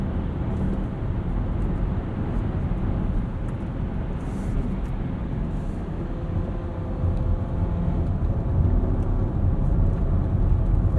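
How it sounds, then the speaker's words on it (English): 2021 Audi Q5 Premium Plus 45 accelerating up a highway entrance ramp in sport mode, heard from inside as a steady, full engine and road rumble that swells slightly louder toward the end. "Let's do one more entrance ramp here. Put it into sport mode."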